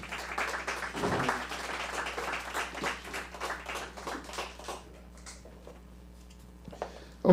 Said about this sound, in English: Please, let's clap for him again.